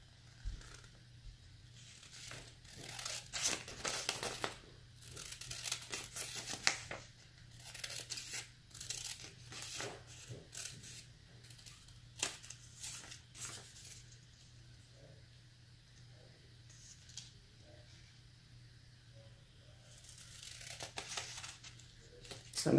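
Canvas is cut away from a painting in bursts of ripping, crinkling strokes, close and fairly quiet, with pauses between the cuts.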